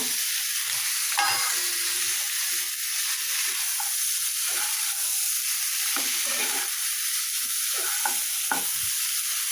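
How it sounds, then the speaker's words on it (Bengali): Goat trotters fry with spices in a pan, a loud, continuous sizzle and hiss under repeated scraping stirs throughout, close up and without talk. "এর মধ্যে আমি খাসির পা দিয়ে দিব।"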